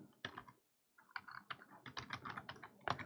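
Someone types a block name on a computer keyboard, giving quiet, close key clicks in quick irregular runs, broken by a short pause and ending in a slightly louder final tap.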